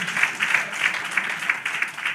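A community outreach session audience gives steady applause, a brief, even wash of many hands clapping at moderate distance.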